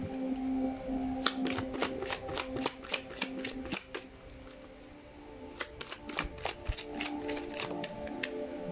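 A deck of Angel Therapy oracle cards is shuffled up close in two bursts of rapid crisp riffling clicks separated by a short lull, quiet and with no voices.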